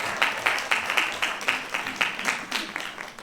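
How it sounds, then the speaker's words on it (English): An audience at a community beautification awards ceremony claps, a brisk crowd of hands with distinct sharp claps standing out, steady and moderately close, with faint voices underneath. "Well, clap."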